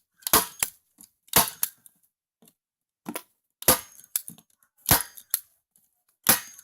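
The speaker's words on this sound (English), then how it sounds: "Take a staple gun or screws if you have them." Staple gun fastening netting onto a trash can for a rain barrel, several sharp, loud snapping shots spaced irregularly, close up, with quiet gaps between them.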